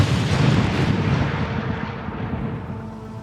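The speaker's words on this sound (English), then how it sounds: "There was a bit of a countdown and then the big bang." A bridge demolition blast in Memphis lands as one big, deep boom that rolls and rumbles, then slowly decays over a few seconds with no talk.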